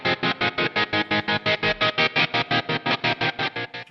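Overdriven electric guitar through a Line 6 Helix preset with a fully oscillated square-wave effect, playing a song intro: a rapid, evenly chopped on-off stutter pulsing about five times a second, loud and alone.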